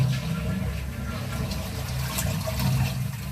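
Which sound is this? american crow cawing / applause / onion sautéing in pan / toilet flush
toilet flush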